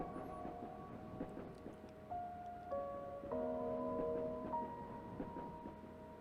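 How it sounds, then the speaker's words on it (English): Train ride ambience in the RPG Maker horror game Tales of the Black Forest: a quiet rolling rumble with light rhythmic clicks beneath soft sustained tones, no voices. "Isn't it just a pleasantful, peaceful train ride?"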